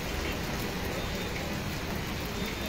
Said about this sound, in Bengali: ভারী এবং অতি ভারী বৃষ্টির পূর্বাভাস দিয়েছিল, সেই মতোই বৃষ্টি শুরু হয়েছে